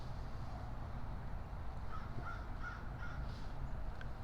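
Several faint crow caws sound in the distance outdoors at a film location, short calls clustered together against steady background noise.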